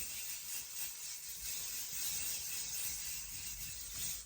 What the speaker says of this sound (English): I have this fixing spray from Crayola, which I use my forehead